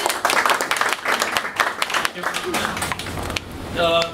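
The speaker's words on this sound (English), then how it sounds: "Round of applause for Nitin." Audience applause at a startup pitch and panel night, with scattered claps over crowd chatter, followed by a speaker starting to talk.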